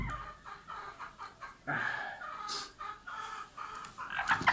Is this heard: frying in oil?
no